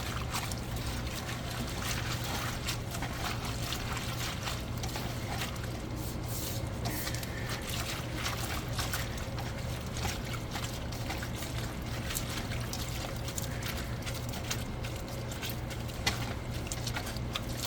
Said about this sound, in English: I'm going to give this a stir around.